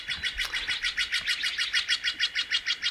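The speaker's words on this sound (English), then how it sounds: "The birds agree." Birds chirp outdoors in a fast, even series of bright repeated calls, about a dozen evenly spaced notes, close and clear with no voices.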